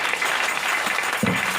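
Congregation at a church service applauding together, a steady dense wash of clapping that holds throughout, with a brief low thump near the end.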